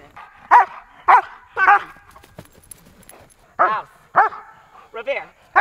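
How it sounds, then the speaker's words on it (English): A dog barks repeatedly at close range in short bursts, with brief pauses between the barks. "Now he's supposed to continue barking till I give him the command again, or if Jake moves."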